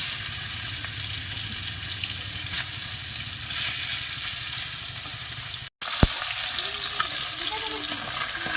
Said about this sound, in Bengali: এই যে দেখো মাছ ভাজা কিন্তু হয়ে গেছে